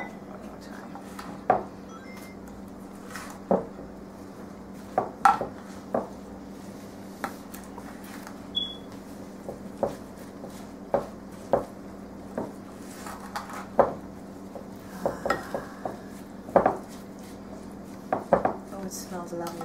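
Sweet potato casserole ingredients are tossed in a bowl with a utensil, giving a run of distinct clinks and scrapes spaced a second or two apart over a low, steady background hum.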